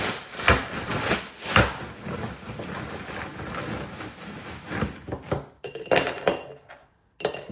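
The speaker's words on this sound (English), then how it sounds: "I fill my glass all the way up to the top with ice" Ice cubes clink and rattle into a glass in a home kitchen, with several sharp clinks among steady clattering, close and fairly loud, and no talking.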